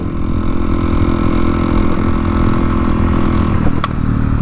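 A Honda CRF 250L rides off-road on open trails, its engine droning loud and steady close by with a brief shift in pitch near the end as the gear changes. No one speaks.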